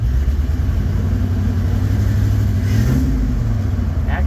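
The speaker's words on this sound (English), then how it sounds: "So if we rev it just a hair" A 1954 Chevy 3100 pickup engine runs steadily at a low, even idle, then rises briefly in a light rev before settling back, close and continuous.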